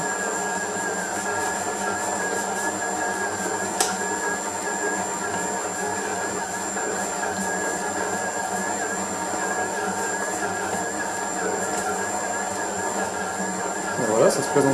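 A budget Cecotec stand mixer kneading dough, a steady loud motor whine with a high tonal hum that runs unbroken throughout, with a brief thump near the end.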